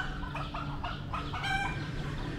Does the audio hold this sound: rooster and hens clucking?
yes